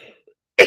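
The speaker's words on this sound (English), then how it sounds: "I'm going to have to go because I'm coughing." A single sharp cough from a person with an irritated voice, close and loud, coming suddenly at the end after near silence.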